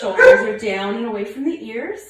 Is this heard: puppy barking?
yes